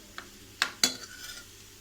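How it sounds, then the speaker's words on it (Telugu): A spoon stirs mixed vegetable kurma with cauliflower in a pan, giving a few sharp metallic scrapes and clinks against a quiet background, with no talking. "ఇప్పుడు మనం ఒకసారి కలిపేసుకుందాము."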